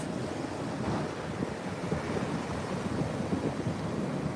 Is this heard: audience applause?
no